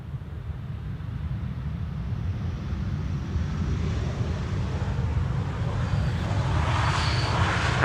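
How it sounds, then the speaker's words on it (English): A Vueling Airbus A321 arriving from Barcelona on approach to land at Schiphol, a steady low jet rumble that swells slightly as it nears, with wind buffeting the microphone and no one speaking. "First up Vueling, Flight 8300 arriving from Barcelona. And that's an A321."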